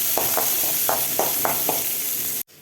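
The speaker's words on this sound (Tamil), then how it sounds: "ஆனியன் ஆட் பண்ணிக்கிறேன். வெங்காயம் நல்லா வணங்கட்டும்." Onions, curry leaves and dried red chillies frying in a pan, giving a steady close sizzle with a series of soft rhythmic stirring scrapes over it, then an abrupt cut to silence.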